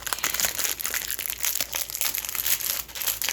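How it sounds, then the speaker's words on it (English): Plastic wrap being cut off a microwave popcorn package with scissors, heard as continuous close crinkling and crackling of the plastic over about three seconds, with no talking. "Some scissors and cut the plastic off."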